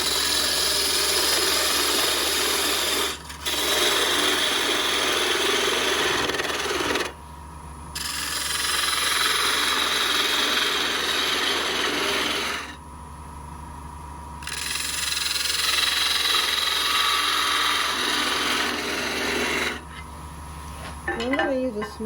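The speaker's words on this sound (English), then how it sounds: "Okay, now we'll just take the tenon off of the top of the clip." A wood lathe spins a turned cup blank while a parting tool cuts off the top tenon. Steady scraping and whirring comes in long bursts, broken by brief pauses between passes.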